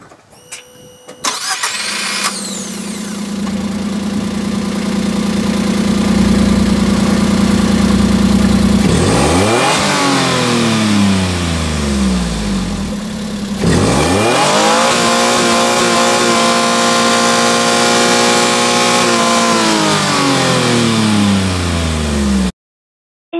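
A Suzuki Carry Japanese mini truck with a 660cc naturally aspirated inline three-cylinder DOHC petrol engine starts up close by, then idles steadily and revs up and down twice, loud and alone.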